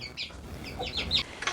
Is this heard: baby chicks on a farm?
yes